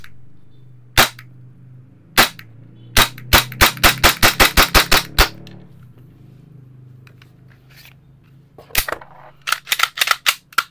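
Krytac Kriss Vector airsoft gun firing: a few separate sharp shots, then a fast string of about ten snappy shots, with more scattered cracks near the end over a low steady hum.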